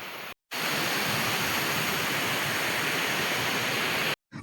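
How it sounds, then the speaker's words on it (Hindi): Mountain spring water rushing steadily from its source toward a village, a constant dense hiss close by, briefly cut twice by gaps. "ये वो जगह है साथियों जहाँ से हमारे गांव के लिए पानी जाता है"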